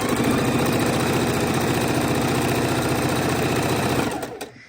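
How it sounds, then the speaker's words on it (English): Sewing machine stitching fabric strips together for quilt borders, a fast, even mechanical whir running loud and close with no talk, then winding down and stopping near the end. "I'm sewing them all together, and then we'll cut them down into our blocks."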